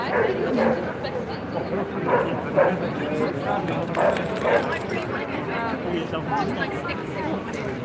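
A dog barks several times in short yips and woofs at close range amid people talking and street chatter at Checkpoint Charlie in Berlin.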